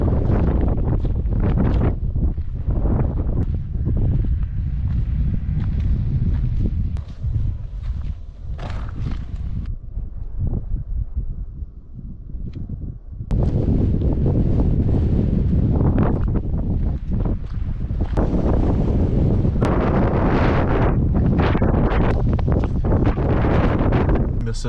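Strong gusts of wind batter the microphone outdoors in the Crystal Hill desert area, a steady roaring buffet that dips briefly near the middle before surging back loud and continuous.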